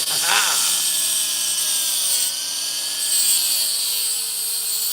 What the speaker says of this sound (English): Sharpening my tungsten.